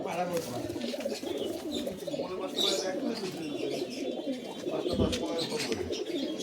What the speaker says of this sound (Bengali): দুটো স্টিপলার পায়রা